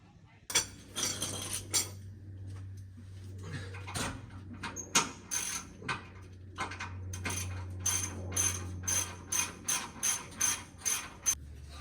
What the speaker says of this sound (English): So we're just going through taking these bolts off